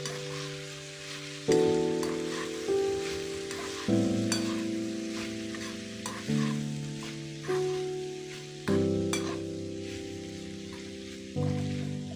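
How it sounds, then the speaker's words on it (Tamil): Eggplant fry with tomato sauce stirred in a pan, a steady sizzle broken by repeated scraping strokes of the spoon at a slow, regular rhythm, close and alone. "ஒரு டொமேட்டோ சாஸும் கொஞ்சம் ஆட் பண்ணி அதை நல்லா மிக்ஸ் பண்ணி விடுங்க"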